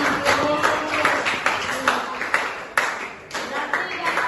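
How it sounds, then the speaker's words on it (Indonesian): A small classroom audience claps for a student performance: irregular, fairly close hand claps that come in uneven bursts with voices mixed in. "tepuk tangan untuk penampilan"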